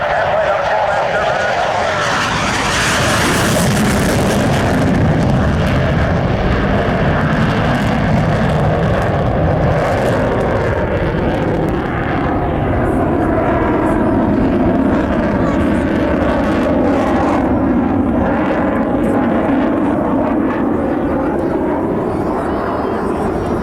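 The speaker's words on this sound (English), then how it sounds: "Simulating a landing, gear and flaps extended, but we'll watch those retracted just above the runway as they accelerate." Military jet at an air show accelerating low over the runway after a simulated landing with gear and flaps retracting, a loud sustained roar that swells and shifts in pitch, steady throughout.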